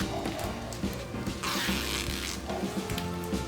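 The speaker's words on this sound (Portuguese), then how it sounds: "Então eu vou pegar aqui o zíper, ele tem 50 centímetros, eu vou abrir ele." A 50 cm sewing zipper is opened by hand in a quiet craft setting, giving soft, uneven ratcheting rasps with a brief louder pull midway, faint and close.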